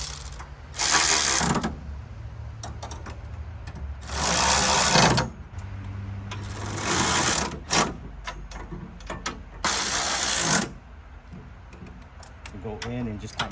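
A hand ratchet tightens 10mm bolts on a Honda CR-V 1.5T engine-side motor mount, with four loud bursts of rapid clicking separated by quieter pauses, close by, and a voice speaking in between.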